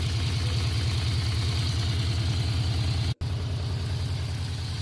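A Yamaha VMAX V4 motorcycle engine idles with a steady, deep, rhythmic throb, loud and close, broken once by a momentary cut.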